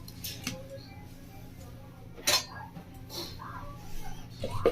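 A few sharp clinks and a clatter as a lid goes onto a kitchen bowl of marinated rohu fish, with scattered small metallic taps and quiet room tone between them.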